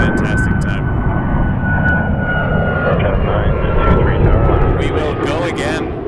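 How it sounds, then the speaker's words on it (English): A WestJet Boeing 737 MAX 8 jet passes overhead at Toronto Pearson Airport, a loud, sustained engine roar that holds steady throughout and swells slightly as it goes over, with faint voices in the background. "So that was WestJet 717 to Vancouver on a 737 MAX 8. Max 8 just going over our heads."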